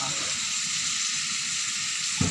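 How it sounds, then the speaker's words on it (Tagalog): Egg poured onto bitter gourd (ampalaya) frying in a pan, a steady close sizzle and hiss, with a brief clunk at the end. "So, ilagay na agad natin si itlog."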